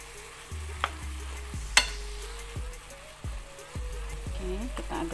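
Fried rice being stirred in a frying pan, a steady sizzle broken by repeated scraping strokes of the spatula and a few sharp clinks, with a voice talking over it.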